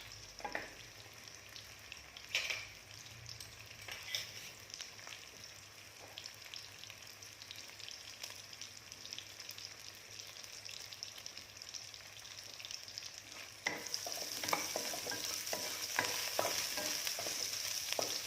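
Vegan pork belly fries in a pan with steady crackling sizzle, close and continuous, occasional stirring scrapes, growing louder and busier toward the end.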